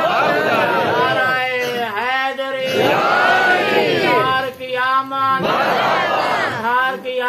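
A large crowd chants slogans in unison at a religious address, voices rising in loud, rhythmic bursts that swell and fade in waves, with brief pauses between rounds of shouting.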